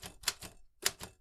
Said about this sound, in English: That's my typewriter, baby.